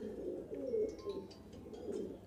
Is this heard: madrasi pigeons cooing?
yes